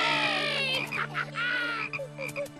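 Cartoon frogs croak in a steady, continuous run during a race in an animated Babar film, with bright music and children's cheering layered over and around the calls.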